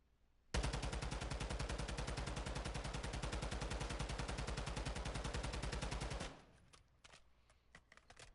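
Sustained, rapid full-auto gunfire from a rifle with no muzzle device in the video game DMZ runs loud and continuous for about six seconds, then cuts off, followed by scattered faint clicks.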